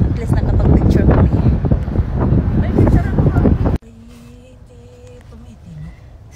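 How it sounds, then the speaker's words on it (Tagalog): Strong wind buffets the microphone outdoors on a long road trip to Arizona, a loud roaring gust that cuts off abruptly partway through, leaving quieter background sounds and a faint tone. "Ayan, ang lakas ng hangin."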